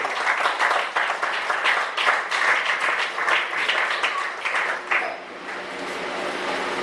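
A church congregation at a conference session breaks into loud, dense applause with sharp individual claps, sustained for several seconds before easing to a quieter, thinner patter near the end.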